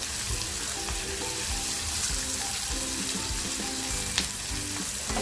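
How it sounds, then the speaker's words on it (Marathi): Guar beans and onions fry in a pan, a steady close sizzle with faint stirring scrapes throughout and no voices. "थोडा वेळ आपल्याला फ्राय करून घ्यायचं आहे कांद्याचा कच्चापणा निघाला पाहिजे"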